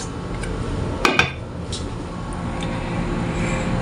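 Aloo matar pulao rice being served into a dish: a couple of brief metallic clinks from a spoon against the dish, then faint scraping over a steady low background hum.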